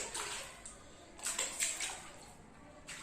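A child splashes water in a swimming pool in light, short bursts, nearby but soft, with quiet gaps between them.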